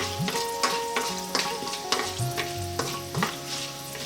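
Mustard seeds and dried red chilies sizzle in hot oil, a close, steady frying hiss broken by a few sharp crackles and pops about once a second, with no speech.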